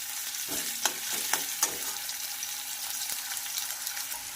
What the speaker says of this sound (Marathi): कांदा चांगला आपल्याला फ्राय करून घ्यायचा आहे